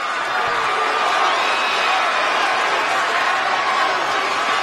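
Roaring wrestling arena crowd cheering as Roman Reigns returns to SmackDown, a dense, steady wall of loud cheers and shouts filling the space throughout with no letup.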